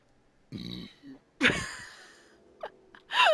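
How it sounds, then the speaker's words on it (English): A person burps after drinking a lot of water: a few short, close vocal bursts, the loudest a deep rough belch in the middle, separated by near silence. "And I want to burp."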